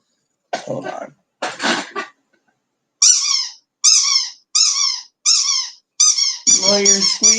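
A squeaky toy squeaks in a series of sharp, high, separate bursts, after two rougher breathy or cough-like sounds, ending in quicker overlapping squeaks.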